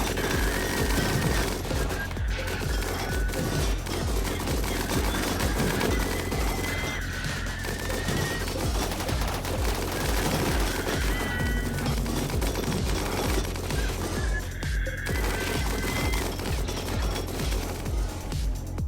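Sustained RimWorld battle gunfire, dense overlapping bursts of automatic and single shots with crashes and booms, loud and continuous throughout.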